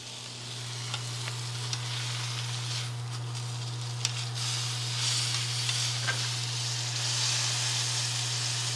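Wagyu steak that is already cooked sears in a hot pan, giving a steady close sizzle and hiss with a few faint scrapes over a constant low hum.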